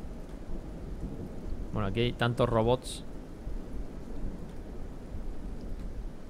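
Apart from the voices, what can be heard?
rain and thunderstorm in the video game Kenshi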